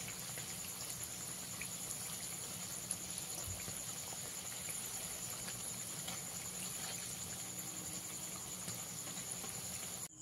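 Bengali onion fritters (piyaji) frying in hot oil, a steady dense crackle and hiss that runs evenly throughout without pause, close and moderately quiet, with no talking.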